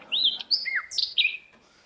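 A songbird sings a few clear, bright whistled phrases in quick succession, sliding notes close and distinct against a quiet background.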